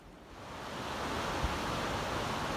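Falls Creek along the Pacific Crest Trail rushes past as a steady, broadband wash of moving water, close and continuous, swelling slightly after the first moment and holding level with no voices.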